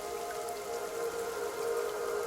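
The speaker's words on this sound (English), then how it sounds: "we can just make it start to rain." Rain falling in the gardening video game Cloud Gardens, a steady soft hiss of drops under a sustained tonal ambient drone, even and continuous without any talk.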